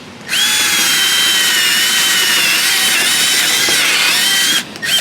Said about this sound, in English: We're going to get good old trusty drill and drill out some holes.